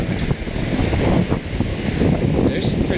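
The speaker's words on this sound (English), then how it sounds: "There's some pretty good waves." Ocean waves roll and break steadily on the shore under strong gusting wind that buffets the microphone in a continuous roar; rough, choppy sea driven by a passing low-pressure front, with the waves breaking early.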